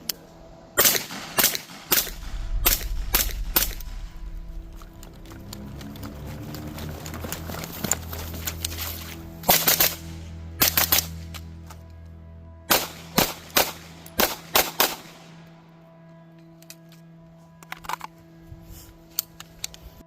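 Rapid 300 Blackout rifle gunfire at an outdoor range, loud sharp cracks in quick bursts and clusters with a low rumble underneath, then spaced single shots toward the end.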